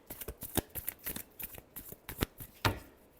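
A deck of tarot cards is shuffled close up, giving a rapid run of crisp riffling slaps and snaps in uneven bursts, ending with one sharper card slap.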